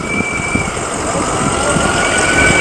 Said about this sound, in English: the Madawaska EMS. Ambulance service for the people in Madawaska.